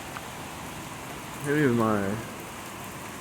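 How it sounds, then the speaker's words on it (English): Night rain falls as a steady, even hiss, and a voice speaks briefly and close partway through. "Oh, the rain."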